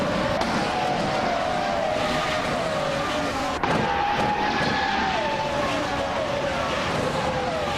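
1996 McLaren MP4/11 Formula One cars racing in a video game, a continuous high-revving engine whine with shifting pitch and a brief loud burst midway as cars pass.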